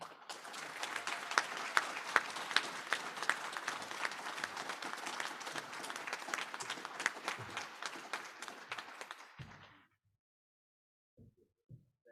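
An audience at a graduation ceremony applauds its graduates with dense, sustained clapping for about ten seconds, then stops abruptly, leaving near silence with a few faint knocks.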